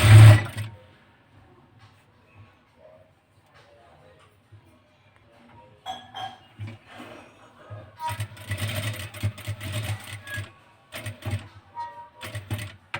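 A sewing machine stitches a small patch onto a blouse back neck. After a quiet stretch come short bursts of rapid mechanical whirring and clatter, ending in a longer, denser run of stitching.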